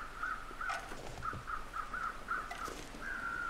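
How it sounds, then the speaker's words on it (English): Repeated crow caws from The Long Dark, a winter survival game, sound in a steady run of short harsh calls over a soft wind-like background, with no talking. "Oh, there are more crows there."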